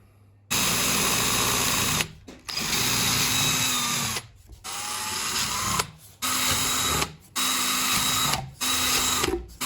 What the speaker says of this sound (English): I'm just going to drill these windows out now.